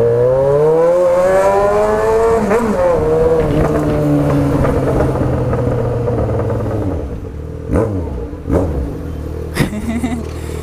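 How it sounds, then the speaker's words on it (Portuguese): A Yamaha XJ6 motorcycle on a straight road through a town centre revs loudly and close, its engine pitch climbing steadily, then settling into a rumble broken by several sharp throttle blips. "Nossa, tá berrando demais essa moto."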